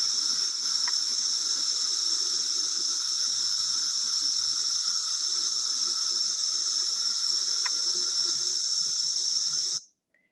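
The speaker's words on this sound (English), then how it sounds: "Let's listen to Cicada cassini." A chorus of Cicada cassini, periodical cicadas of Brood X, droning as one continuous, loud, even buzz with no breaks that then stops abruptly at the end.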